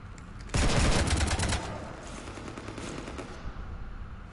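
Rapid automatic gunfire in Mass Effect 3 rakes a ship in a loud, dense burst that starts abruptly, then fades into a lower, continuing rattle of shots.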